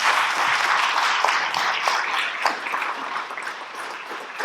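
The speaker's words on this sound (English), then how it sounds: "she actually deserves a round of applause if you don't mind" An audience applauds continuously, a dense wash of clapping that holds steady and fades slightly toward the end, with no speech over it.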